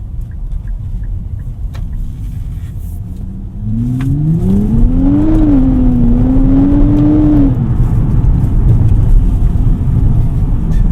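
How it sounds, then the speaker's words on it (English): A 2024 Nissan Z twin-turbo sports car accelerates hard, engine note rising through the revs then shifting and climbing again, heard from inside the cabin over steady road noise. "The acceleration though is really quick. That twin turbo, wow!"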